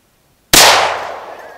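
A single very loud, close gunshot from a .45-70 government rifle fired into a dead hard drive, a sharp crack with a ringing decay that fades over about a second.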